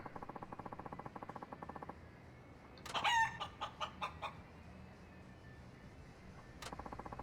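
A chicken in the video game Yakuza 5 clucks loudly and close in a quick run of sharp squawks, with steady rhythmic game noise before and after.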